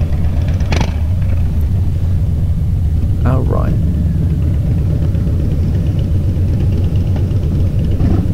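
Low, steady rumble of a Harley-Davidson Softail Slim motorcycle engine idling nearby, constant and loud, with someone briefly speaking over it.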